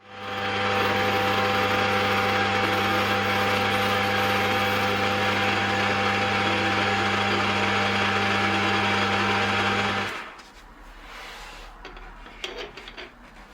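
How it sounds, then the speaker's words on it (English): A metal lathe running in reverse while a boring bar cuts a taper on a new part for a 1929 motorcycle, a loud steady mechanical whine and hum for about ten seconds before it abruptly stops, leaving quieter workshop noise. "I'm using this because it's got a bit more reach, but it does mean that I will have to run the lathe in reverse"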